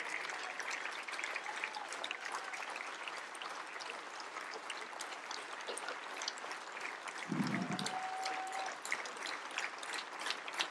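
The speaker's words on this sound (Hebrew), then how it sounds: "כפיים לאישה הזאת" Audience applause at an award ceremony honoring a leading actress, steady clapping from a crowd heard at moderate distance, sustained throughout without a break.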